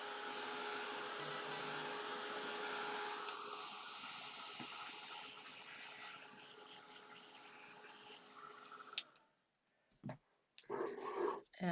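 A hair dryer blows steadily on wet paint on grape artwork for several seconds, a loud whooshing hiss that cuts off, followed by a few brief knocks and handling sounds.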